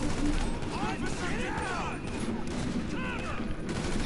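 Rapid gunfire from the video game GTA Online, a continuous burst of shots under game noise, with voices talking over it throughout.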